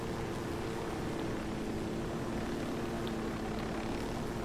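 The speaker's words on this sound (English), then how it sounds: "Go down, helicopter." Constant droning helicopter rotor and engine noise in the video game Ghost Recon Wildlands, steady and fairly loud with no breaks, no voices.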